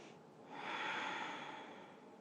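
A single slow, airy breath during a full-body stretching practice, close and quiet, swelling and fading over about two seconds with no talking.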